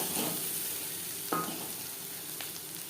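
Onions frying in a pan with chillies and turmeric for a vegetable and puti fish chorchori, a steady soft sizzle throughout with a couple of brief stirring scrapes, no voices.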